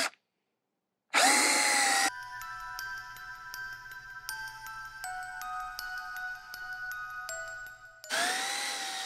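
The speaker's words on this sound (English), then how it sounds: "let's say you start drilling into your pumpkin" A power drill bores holes into a Halloween pumpkin, its steady whine running for several seconds between louder bursts at the start and end, with no talking.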